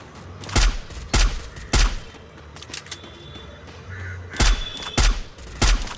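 Repeated gunshots in the Free Fire battle royale mobile game, seven loud sharp reports in pairs and threes over a quiet background hum, no talking.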